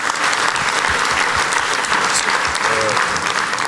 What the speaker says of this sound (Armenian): Եվս մեկ անգամ ծափարում ենք։